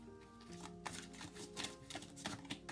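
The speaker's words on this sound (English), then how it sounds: "these cards are just a little bit more difficult to shuffle because they're a little bit bigger" Large tarot cards being shuffled by hand, a series of soft riffling bursts and papery flicks repeating in an uneven rhythm, close and moderately quiet, with no voices.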